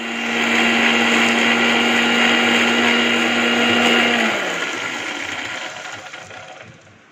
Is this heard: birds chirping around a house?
no